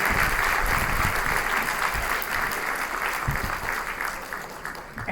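Large audience at a Cleveland community event applauding a sponsor, a thick, continuous wash of clapping that stays loud throughout and tapers slightly near the end.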